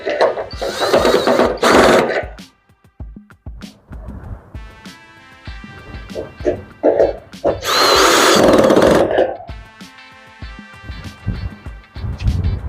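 A power drill bores half-inch holes in an aluminium box frame in loud whining bursts, separated by quieter gaps where someone talks and metal parts clink.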